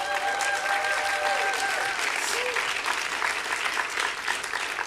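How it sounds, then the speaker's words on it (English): Loud applause from a crowd at an honors convocation for a computer science graduate, dense and sustained clapping close by, with voices and a few whoops mixed in early. "Let's give him a round of applause."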